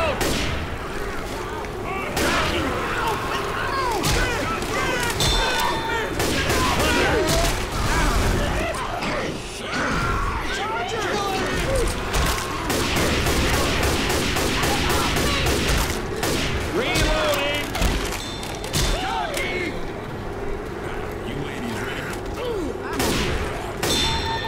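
Rapid bursts of gunfire from Left 4 Dead 2 crack almost continuously, dense overlapping shots and impacts at close range, loud and chaotic, with game action and some voices mixed in.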